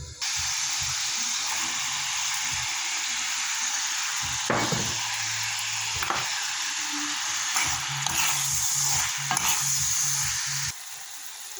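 Bell peppers stirred and fried on top of meat in a pan, a steady loud sizzle throughout with repeated scraping stirs of a utensil against the pan at intervals.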